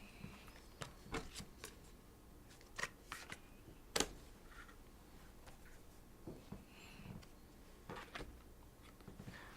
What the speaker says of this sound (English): he draws 2 fresh cards. I will keep the card I have in my hand and just draw 1.